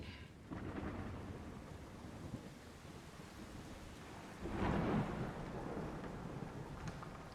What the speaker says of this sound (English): Apparently we got a storm going.